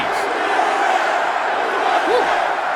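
A large crowd at a political rally in North Carolina roaring in a dense, continuous wash of cheering and shouting that stays loud and steady throughout.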